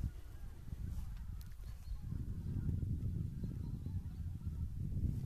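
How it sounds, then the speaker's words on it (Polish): Geese honk repeatedly in the distance over a steady low outdoor rumble, with no one speaking. "Oczywiście słychać piękne gęsi."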